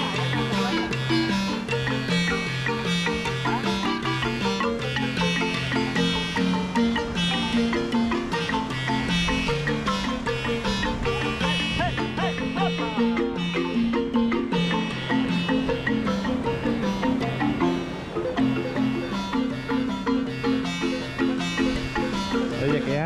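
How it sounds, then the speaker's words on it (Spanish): Marimba playing on a beach at Playa del Carmen, a steady run of bright, rippling mallet notes over a repeating bass pattern, loud and continuous throughout with no talking. "Y suena muy bien la marimba."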